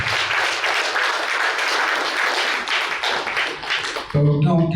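Applause from an audience at an honour ceremony and social gathering, a dense crowd of clapping that runs steadily for about four seconds before giving way to a tonal sound at the end.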